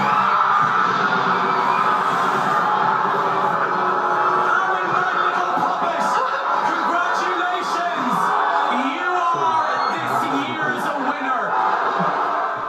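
Big Brother studio audience chanting and shouting at the series winner, a dense, steady roar of many voices with whoops and yells rising above it.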